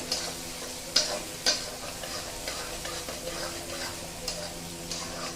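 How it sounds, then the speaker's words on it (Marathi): Urad dal roasting in a pan for rava upma, a quiet steady sizzle with a few sharp clicks of a spoon scraping and knocking against the pan as it is stirred. "1 ते 2 चमचे उडदाची डाळ घालायची. हे बघा, हे छान असं परतून घ्यायचंय."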